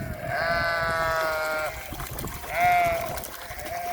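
Katahdin sheep bleat nearby on a hot Minnesota farm, first a long wavering call and then a shorter one, over faint outdoor background noise.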